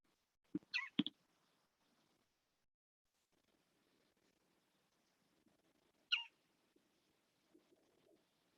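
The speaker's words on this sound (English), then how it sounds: "Can you name that bird, Judy?" A bird calls outdoors in a few short, clear bursts, with one pair of notes early and a single call a few seconds later, standing out over near silence and faint distant rustle.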